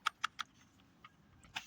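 Several keys on a Dell KB216p computer keyboard are pressed, giving three quick close clicks in a row, then a few fainter taps and one last sharper click, with no talk.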